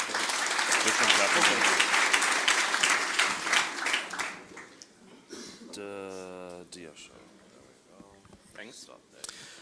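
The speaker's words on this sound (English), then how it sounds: "Big round of applause for him, please." Conference audience applauding a lightning-talk speaker, loud dense clapping for about four seconds that fades out, followed by quiet room noise and brief tonal sounds.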